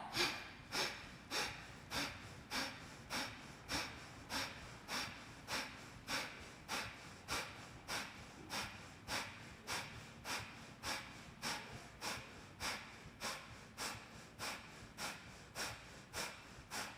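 Rhythmic, forceful breath-of-fire nasal exhales during yoga, repeated steadily about once every two-thirds of a second, close and continuous with no talking.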